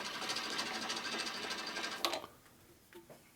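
A cutter head machining steel on a Harley shovelhead engine case, a fast rapid buzzing whir that runs steadily, then cuts off abruptly, leaving a faint low hum and a couple of small clicks.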